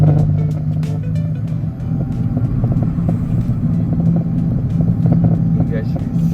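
A small electric cart rolls along at a Center Parcs holiday park, its steady low rumble and hum continuous and fairly loud, with voices talking over it.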